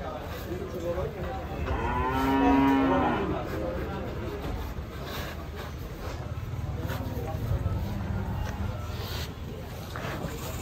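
Cattle low with a loud, drawn-out moo as they are loaded onto a truck, over steady outdoor background noise with faint voices nearby.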